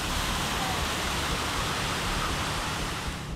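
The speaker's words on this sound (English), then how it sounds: "which has dangerously powerful waves, strong rip currents, and high tides that wash away the sandy shoreline" Powerful surf at Hanakapiai Beach on Kauai pounds the sandy shore, heard as a broad, steady, loud roar of crashing waves that eases slightly toward the end.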